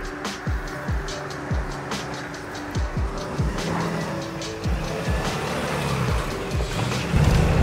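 A truck fitted with a Carli torsion sway bar drives an off-road trail, its engine close and loud, rising and falling in repeated surges with bumps and rattles, and no one speaking.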